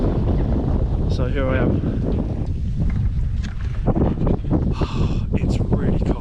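Cold winter wind at a UK carp fishing lake in sub-zero weather roars and buffets the microphone throughout, loud and constant, while a person speaks over it.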